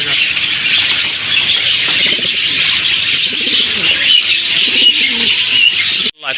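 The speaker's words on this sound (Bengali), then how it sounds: "এটা হচ্ছে চুইনা কবুতর" Chuina pigeons coo in soft, repeated low rolling calls, close and clear over a constant bright hiss of background noise, ending abruptly.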